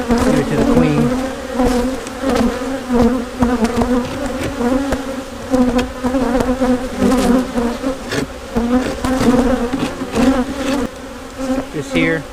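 A dense, steady swarm of honey bees buzzes loudly around an open hive during a spring inspection, the drone continuous and close with no voices over it.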